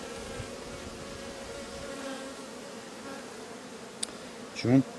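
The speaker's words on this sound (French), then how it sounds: "celle-là elle est pleine d'abeilles" Honeybees hum steadily around an open hive as frames are moved between hives, a continuous low buzz with a few louder passes close by near the end.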